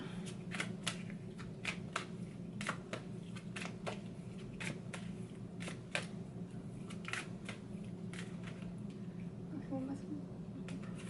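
A deck of Rumi Oracle cards being shuffled during a psychic reading, with soft, quick riffling flicks and taps repeating irregularly over a low steady hum, quiet and close.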